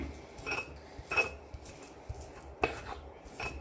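A stone pestle grinds garlic in a molcajete with a few separate scraping and knocking strokes, fairly close but soft, spread across a quiet room.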